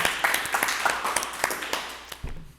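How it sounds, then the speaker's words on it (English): Applause at a live webathon event honoring Secretary General Luisi Kinshasa: a dense, steady wash of clapping from a crowd, fairly loud and continuous, tapering near the end. "Let's give a round of applause for Secretary General Luisi Kinshasa"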